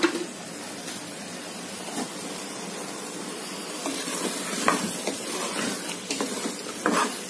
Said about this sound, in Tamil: நம்ம கட் பண்ணி வச்சிருக்க காளான் இதை சேர்த்துக்கலாங்க.